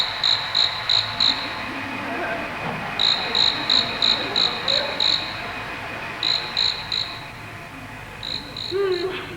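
Crickets chirp in regular bursts of rapid, bright pulses as a comedic sound effect, repeating in short groups over a steady background hum, with faint murmuring voices underneath.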